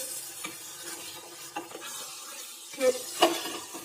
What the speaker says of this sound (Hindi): इसलिए हम इसी तरह चलाते हुए उसे ड्राई करेंगे